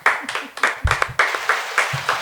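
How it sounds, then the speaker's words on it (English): A few people clap in a quick, uneven rhythm, with some voices mixed in faintly, fairly close. "Clap it up."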